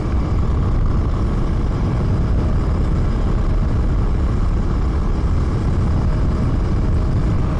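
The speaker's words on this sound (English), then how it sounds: "This is a pretty amazing little motor." A 2024 Husqvarna Svartpilen 401 motorcycle with a 399cc single-cylinder engine runs steadily, a loud continuous rumble that holds constant throughout with no talking.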